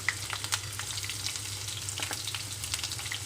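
Chopped onions and green chillies crackle and sizzle in hot oil, a busy, continuous frying hiss with scattered pops, close and moderately loud.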